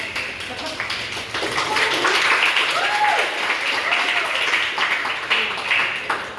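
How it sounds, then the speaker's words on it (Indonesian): An audience at a speech competition bursts into sustained applause, loud and continuous clapping for several seconds, with a few faint voices beneath. "Iya, tepuk tangan dulu lah."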